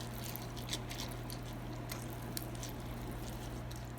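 Rice being stirred with water for a microwave side dish, a soft wet squishing and pattering that runs steadily throughout, close by, over a low constant hum.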